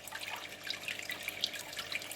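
Water dripping into a shrimp tank during a water change, with light, irregular drips and trickling close by and fairly faint.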